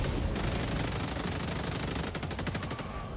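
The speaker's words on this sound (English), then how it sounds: "Yeah, the turrets might be a problem." Turrets in the video game Helldivers 2 fire nonstop in a dense, loud automatic stream, with the rapid individual shots turning into distinct pulses near the end. No voices are heard.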